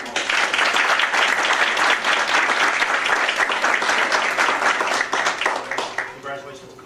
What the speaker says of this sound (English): So let's give these ladies a round of applause.